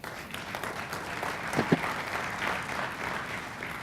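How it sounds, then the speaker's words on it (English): An audience at a talk event gives a sustained round of applause, an even wash of many hands clapping throughout. "give yourself a round of applause"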